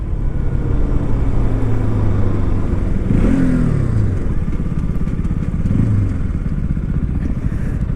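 Yamaha R15 M and KTM RC 200 motorcycles in a long drag race, a steady loud engine drone with a rising and falling gear-change whine mid-way, continuous and close, no speech.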